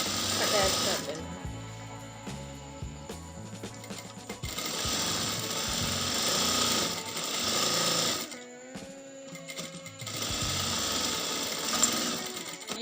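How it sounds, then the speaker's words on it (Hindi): A sewing machine stitches a belt onto a salwar, running in long, rapid chattering bursts broken by short pauses, with talk heard intermittently. "अब ये बेल्ट को पकड़ के यहाँ से हमने सिलाई ऊपर लगानी है एक पतली सी"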